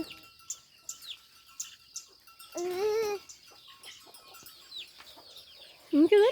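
Chickens cluck in short repeated calls around a yard while a rooster lets out a loud wavering crow in the middle and again near the end, close by and otherwise quiet.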